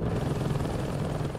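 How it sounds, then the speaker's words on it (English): Aircraft engine drone from a plane flying by in the Saints Row 2 video game, a loud, steady rumble that holds evenly throughout with no talk over it. "A plane."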